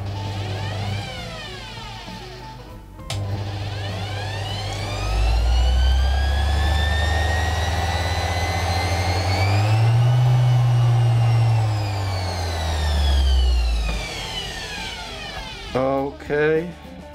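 A Parkside PDFW 120 A1 double bench grinder runs at its minimum speed, giving a steady motor hum and a high whine that rises and falls. It starts near 3 seconds, swells loudest in the middle, and ends with brief clatter.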